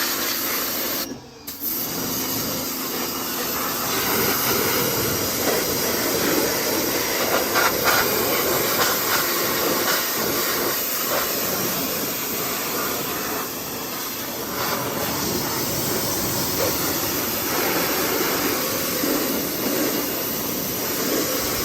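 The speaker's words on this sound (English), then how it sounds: "So pressure washer." A pressure washer sprays water on a ruined Chevy-powered Studebaker in a loud, steady broadband hiss that runs almost unbroken, with one brief dropout near the start.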